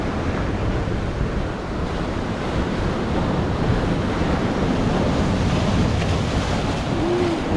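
Ocean waves breaking on a rocky Australian shore in winter, a loud continuous wash of surf mixed with heavy wind buffeting the microphone, with no voices.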